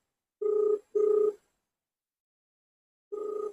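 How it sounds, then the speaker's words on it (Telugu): A phone rings for an incoming call in three clear electronic bursts: two back to back, then a pause and a third, with no talk. "రింగ్ అవుతుంది."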